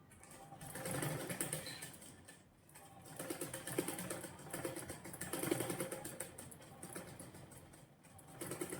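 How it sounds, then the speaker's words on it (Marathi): A sewing machine stitches a coat collar in continuous bursts of rapid mechanical chatter, close and steady, with brief pauses between runs. "मी बरोबर 5 इंच वरून स्टिच मारणार आहे"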